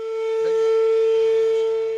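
A loud, sustained civil defense siren tone holds steady throughout at an outdoor siren festival, with a brief lower whoop near the start and a faint crowd murmur underneath.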